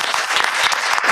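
An audience at a school board meeting applauds a group of DECA students, with steady, dense clapping filling the hall throughout without a break.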